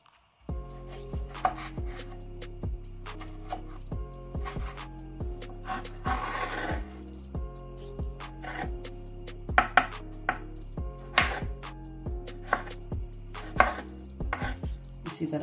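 Tomatoes being cut with a knife on a board, a regular series of close, crisp chops, roughly one or two a second, with no voices.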